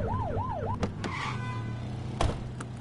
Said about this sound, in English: Get behind them and blip the siren and make them pull over.